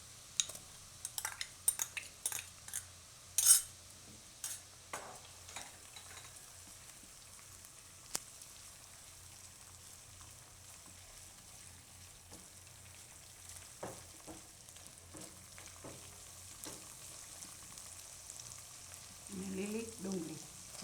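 Ginger and green chillies fry in a pan with garlic for a Gujarati mixed-greens bhaji ghuto, giving a soft, steady sizzle with occasional sharp utensil clinks and scrapes early on, quiet and close.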